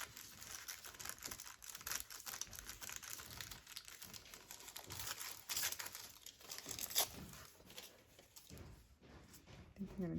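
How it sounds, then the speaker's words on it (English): Tissue paper for a junk journal is crumpled and handled at close range, giving a steady, busy crackle and rustle that runs through the whole stretch with a few sharper crinkles, and no one speaks over it. "I've got some tissue paper here."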